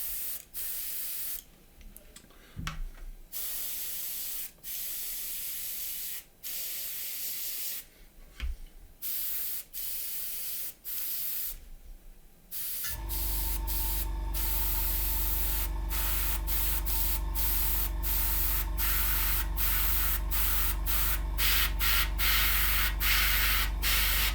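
An airbrush sprays paint to post-shade a scale model, giving a steady close hiss broken by short pauses and then a longer continuous spray with faint rhythmic ticking.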